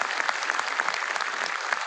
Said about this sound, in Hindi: मैं सिर्फ एक बार फिर आप सब के साथ तालियों की गड़गड़ाहट से उनकी बात का स्वागत करता हूँ।